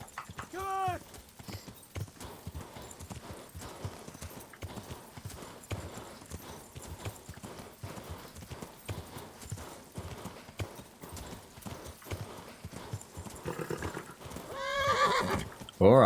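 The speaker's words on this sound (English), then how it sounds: "Bloody useless horse." Horse hooves clop in a steady, close rhythm throughout in the Kingdom Come: Deliverance video game, with whinnying neighs near the start and again at the end.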